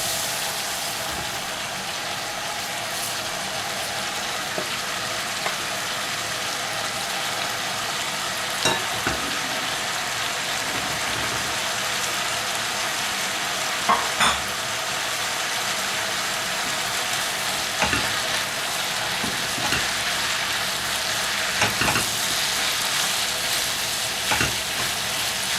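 Meat and zucchini sizzle in a pan for a zucchini béchamel casserole, a steady close frying hiss broken by occasional scrapes and clicks of stirring, with no talking.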